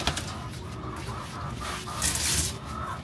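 Newly hatched Egyptian chicks peep and chirp in a cluster near an egg incubator, a busy overlapping chatter of small cheeps with some louder bursts, no talking.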